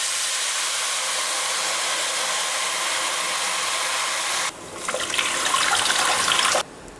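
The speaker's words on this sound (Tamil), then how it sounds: "இப்போ இதில் நம்ம புளி கரைச்சோலையா அதை ஊற்றிக்கலாம்." Tamarind water poured into a cooking pan for puliyodharai, a steady broadband wash that shifts to a brighter splashing pour partway through, then cuts to a quieter hiss near the end; no talking.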